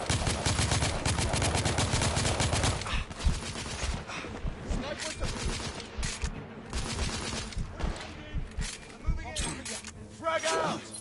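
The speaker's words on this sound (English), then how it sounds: "I'm under heavy fire." Heavy bursts of automatic and single gunfire crackle through a PS4 war game, dense overlapping shots and explosions in rapid succession, loud and close, with shouted character voices between volleys.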